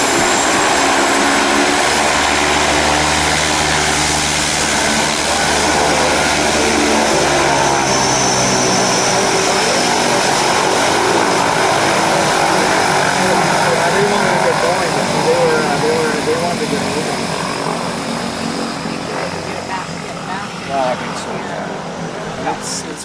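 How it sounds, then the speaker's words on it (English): A propeller float plane's engine roars loud and steady after landing on a river in the Northwest Territories, a constant close drone with shifting pitch that fills the whole stretch. "The plane will only land long enough to get rid of us and our gear."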